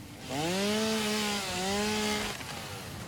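A chainsaw cutting through wood in Satisfactory runs as a loud, steady buzzing drone for about two seconds, dipping briefly mid-cut before trailing off.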